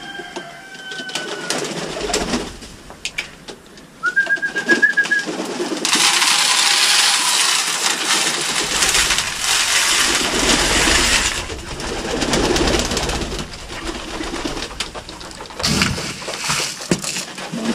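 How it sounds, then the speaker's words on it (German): Luchstauben pigeons coo and peck at a winter seed mix, with soft repeated cooing, fluttering and scattered seed clicks over a steady busy background. "So, und jetzt kommen die Tauben. Eine Wintermischung."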